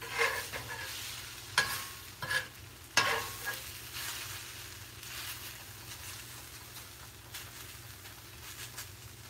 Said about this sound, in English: There it is, starting to bubble.